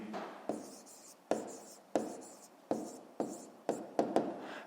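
Pen strokes on paper scratching out figures for a fifth-grade math exercise, a steady run of short bursts, each starting sharply and trailing off, close and fairly quiet with no talking.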